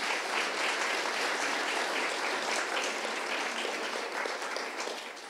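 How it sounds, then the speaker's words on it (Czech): Sustained audience applause at an academic event on artificial intelligence, many hands clapping steadily for over five seconds at moderate distance, gradually thinning toward the end. "Prosím o potlesk"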